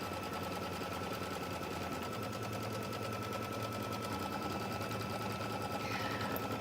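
An embroidery sewing machine stitches a quilt block steadily, its dense rapid needle chatter running loud and unbroken for the whole stretch with no talking.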